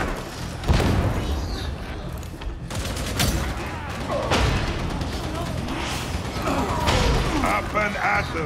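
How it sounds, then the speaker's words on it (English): In Warhammer 40K Darktide, a big cannon fires repeated heavy booms amid a loud fusillade of gunfire and clanking mechanisms, with voices talking over the battle. "Big cannon."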